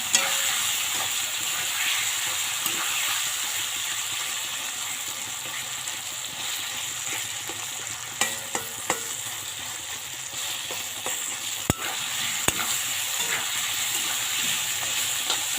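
Curry ingredients fry in ghee while being stirred, giving a steady close sizzle and hiss with occasional sharp clicks and scrapes of the utensil against the pan, and no talking.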